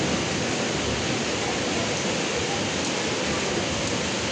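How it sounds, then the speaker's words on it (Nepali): Heavy rain pours down in a loud, steady, unbroken roar of dense hiss that stays constant throughout, with no voices over it. "कत्रो पानी आयो र त कत्रो पानी आयो है"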